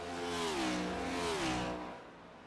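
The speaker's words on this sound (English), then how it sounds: "these cars on the longer runs, they are just screaming right now" Cup Series race car engines at Watkins Glen in a sim racing game scream at high revs. The pitch drops and climbs again as the cars shift and accelerate through turns, loud and continuous before fading slightly.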